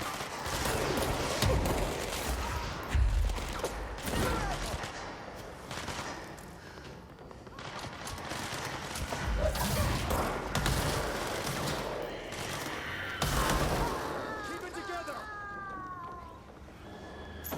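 Gunfire and grenade blasts in the video game Control, dense rapid shots and heavy bursts layered throughout with game effects and music.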